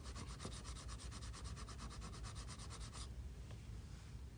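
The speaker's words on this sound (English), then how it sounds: "We're now going to use the blue scraper to remove any excess material." A blue plastic scraper drags over hardened touch-up fill stick filler on a repaired wood finish, a steady close rasping scrape for about three seconds, then a brief tap and quiet.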